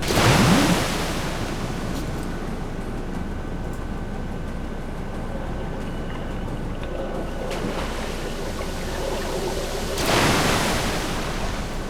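Rushing river water in the video game Metro Last Light Redux: a steady, broad roar of flowing water and wash that swells louder at the start and again near the end, with no voices.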